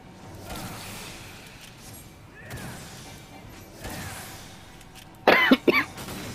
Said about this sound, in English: My hacking and coughing, always good for a video.